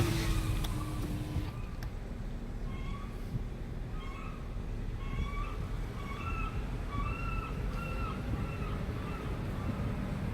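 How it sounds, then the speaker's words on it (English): Seagulls call in the early morning near downtown Olympia, scattered short cries rising over a steady low rumble of traffic or engines, fairly distant and faint. "It's interesting, these little seagulls are up."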